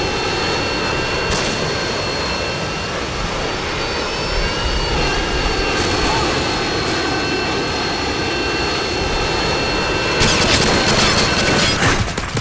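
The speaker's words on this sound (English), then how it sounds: "Friendly Harrier is inbound." A Harrier jet in the Call of Duty: Modern Warfare 2 video game roars overhead in a loud continuous engine drone, with bursts of gunfire and explosions breaking through near the start and end.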